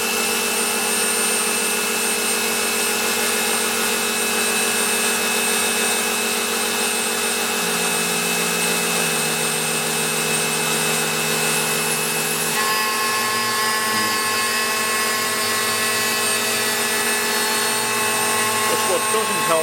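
A metal cutting machine works a part for a BSA Fury restoration with no coolant on it, and cuttings are caught under the cutter. It gives a loud, steady machining drone with shifting tones partway through, and a voice talks over it.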